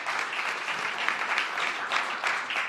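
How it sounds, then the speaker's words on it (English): An audience at a mayoral event on affordable housing gives a short round of applause, a dense, even patter of clapping at moderate distance with no voices over it. "give them a round of applause"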